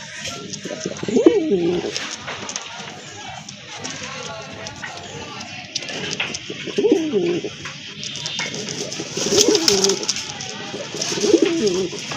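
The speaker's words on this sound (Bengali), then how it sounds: "আরেক জোড়া কবুতর, বড় পায়রা, অনেক বড় সাইজের কবুতর।" Pigeons at a pigeon sale, including large pigeons, coo in repeated low, rolling calls, several bursts spread across the clip, close by, with people talking and background chatter throughout.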